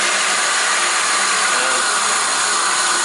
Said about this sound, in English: and that's I start my engine